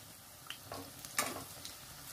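Sabudana tikki fry in hot oil while being turned, a soft sizzle broken by a few louder crackles and the light scrape of a spatula, faint and close with no talk.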